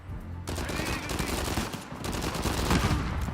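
Heavy-caliber gunfire in the video game Uncharted 4: a dense burst of loud shots and rattling fire that fills the whole clip, with no pause.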